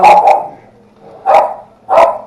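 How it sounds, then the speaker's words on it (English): A dog barks close and loud indoors, a quick double bark followed by two more single barks spaced about half a second apart. "let the dog stop barking"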